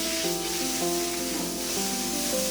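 Pierogies sizzle in a hot pan as they are tossed, a steady close hiss of frying that continues unbroken, with a faint tonal hum running underneath.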